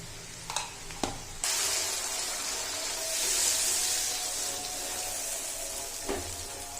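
Onions frying with salt in a pan, a continuous bright sizzle that swells after a couple of brief knocks and a clink near the start.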